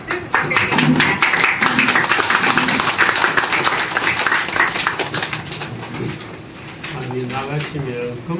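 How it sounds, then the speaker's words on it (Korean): Applause from guests at a book launch gathering in Korea, many hands clapping loudly and steadily, then fading into murmuring voices and someone talking near the end. "큰 박수 부탁드리겠습니다."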